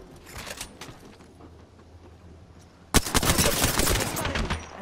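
Video game gunfire: a few scattered shots early on, then from about three seconds a sudden loud burst of rapid, continuous automatic fire that carries through to the end.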